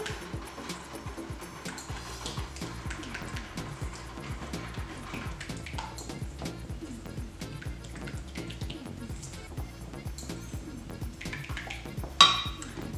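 Melted chocolate and butter, softened in a bain-marie, stirred with liquid cream in a bowl: a steady run of soft scraping and light clinking strokes, close and fairly quiet, with one sharper knock near the end.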